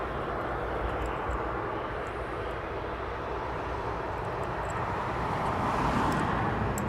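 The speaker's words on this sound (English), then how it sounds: "Aircraft getting ready for departure," DHL cargo aircraft preparing for departure at East Midlands Airport, its engines giving a steady, broad roar that swells slightly toward the end, constant and moderately distant throughout with no voices.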